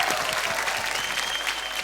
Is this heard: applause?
yes